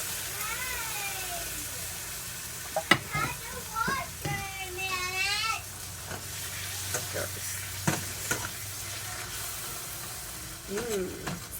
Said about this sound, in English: That's sizzle.